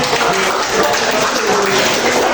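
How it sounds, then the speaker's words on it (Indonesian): Students in a classroom burst into a brief, loud, steady round of applause after a history lesson, dense clapping filling the whole moment with little talk. "Tepuk tangan buat kuliah dulu"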